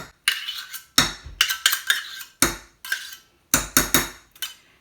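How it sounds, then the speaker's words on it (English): A utensil whisks mayonnaise into milk in a bowl, producing loud, close, rapid bursts of clinking and scraping strokes separated by short pauses. "I'm going to mix the mayo"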